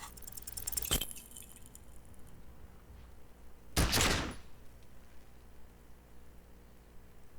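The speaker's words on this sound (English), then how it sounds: "A plume of smoke erupts from the barrel. Your hand goes numb from the explosion." Two sharp gunshot blasts in the video game Disco Elysium, the first near the start and a louder, longer one a few seconds later, each standing out clearly over a low background hum.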